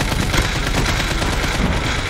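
Loud, dense automatic gunfire from the player's weapon in Call of Duty Mobile rattles continuously in rapid overlapping bursts with no pause.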